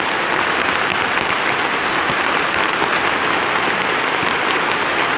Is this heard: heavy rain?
yes